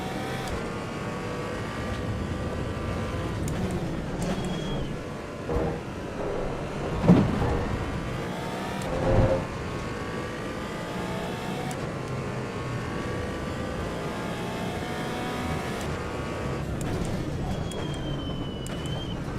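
Several car engines in the racing game Assetto Corsa EVO, a mix of fast production cars and a few race cars on slicks, drone and rev steadily throughout, with brief louder bumps midway.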